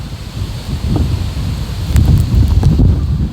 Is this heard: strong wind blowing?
yes